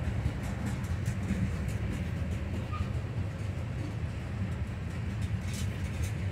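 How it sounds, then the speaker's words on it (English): A Norfolk Southern freight train hauling hot asphalt tank cars and aggregate hoppers rolls past at a distance, a continuous low rumble with faint rhythmic wheel clicks and no voices. "maybe an aggregate mixing train, you know, to like a plant or something"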